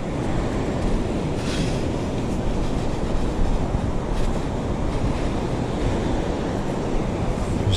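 Ocean surf on a beach in cold rain, with a loud, continuous roar of waves breaking and washing up, swelling now and then without pause.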